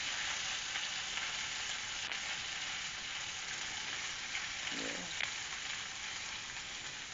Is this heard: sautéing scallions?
yes